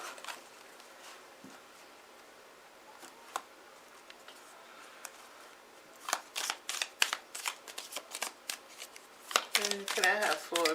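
Tarot cards are shuffled and handled up close: soft riffles and quick papery snaps that build into a rapid flurry in the last few seconds, with quiet background noise.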